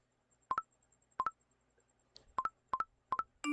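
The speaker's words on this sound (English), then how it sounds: "Let's call the phone, Luna." Electronic telephone keypad tones from a video game beep in five quick, evenly spaced pairs of dual-tone presses, clean and moderately loud against near silence, with a soft click between them.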